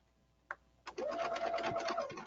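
A sewing machine stitches a seam up to a pin on a garment, with a couple of short clicks followed by a brief, rising whirr of close stitching that runs about a second before winding down.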